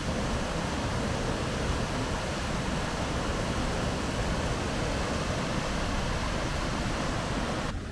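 A waterfall in Scotland heard from a footbridge, a steady dense rush of falling water filling the whole clip at constant loudness with no other sounds.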